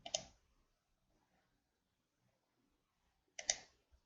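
Two short bursts of key clicks on a computer keyboard as digits are entered, one near the start and one about three seconds later, separated by near silence, close and fairly quiet.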